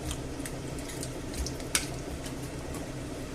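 About 400 millilitres of water poured into a chicken neck and chorizo stew makes a soft, steady splashing trickle with a few small drips and a tap near the middle, heard alone.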